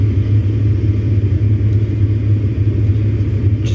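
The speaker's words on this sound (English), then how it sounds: "Bus interior." Steady low engine rumble inside a bus, a continuous droning hum with faint road noise, constant and close throughout with no voices.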